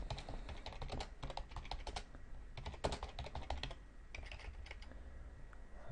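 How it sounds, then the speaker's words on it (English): Steady typing on a computer keyboard, rapid uneven clicks and taps close up, with a brief pause partway through and no voices. "My typing's not that great."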